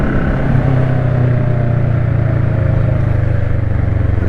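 A noisy motorcycle with open exhaust pipes rumbles close by, a loud, steady low engine drone with a brief swell early on, alone with no talk.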